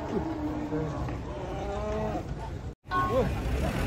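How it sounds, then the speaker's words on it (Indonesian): A large, agitated cow being unloaded from a truck lows repeatedly amid a noisy, restless background, with people's voices nearby; the calls sound strained and agitated. "Ada sapi ngamuk guys."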